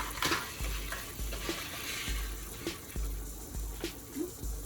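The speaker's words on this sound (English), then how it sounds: "I'll just put my pasta like this and let it cook down" Pasta cooks in a pan with a soft, steady sizzle while a utensil stirs and scrapes at regular intervals, close by and without talking.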